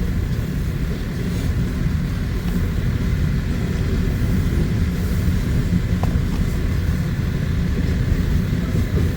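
An eastbound coal drag freight train with a former Southern Pacific engine in the lead rolls past outdoors in Iowa in January, a loud continuous low rumble and roar that holds steady without pause.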